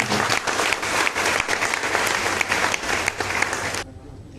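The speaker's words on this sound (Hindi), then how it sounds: "जोरदार तालियां" Loud, sustained applause from a seated assembly audience at a representative gathering in Delhi's Constitution Club, with dense clapping throughout before cutting off abruptly near the end.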